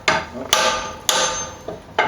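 An M-XIII survival knife's celeron handle is struck hard four times at irregular intervals, each a sharp, close hammer-like crack with a brief ringing tail, with no talking.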